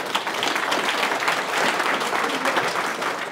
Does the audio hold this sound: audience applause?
yes